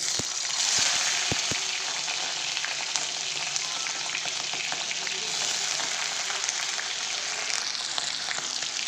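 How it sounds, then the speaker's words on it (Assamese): Paneer pieces frying plainly in mustard oil in a pan, a steady close hiss and crackle throughout with a few sharp clinks of a utensil early on. "এতিয়া পনীৰখিনি অকণমান মই ভাজি ল'ম।"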